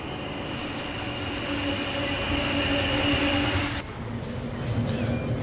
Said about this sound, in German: Sollte ja beim Bremsen und beim Wegfahren dann einmal auf den schönen Sound hören, den es für die Waggons wieder gibt